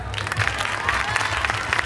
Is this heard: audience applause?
yes